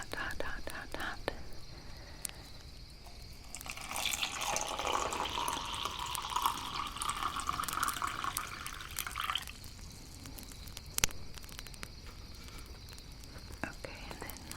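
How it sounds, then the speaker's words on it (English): Hot water pours into a cup beside a campfire, a soft hissing, splashing stream lasting several seconds at close range, framed by quiet clinks and faint whispering before and after. "I think your water is ready, so let me pour that for you."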